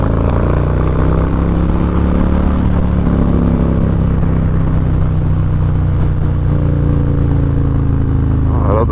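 Harley-Davidson Low Rider S motorcycle with slip-on exhausts, a loud, close, steady low rumble of the V-twin engine under way with slight shifts in revs throughout.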